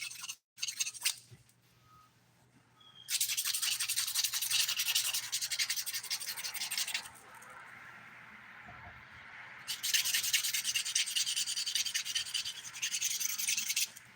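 A nail file rasps across dip powder nails in two long bursts of fast, bright scratching strokes, close up, separated by a quieter pause.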